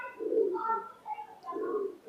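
Cooing of an Indian high flying pigeon, two soft rounded low coos separated by a brief pause, close and fairly quiet.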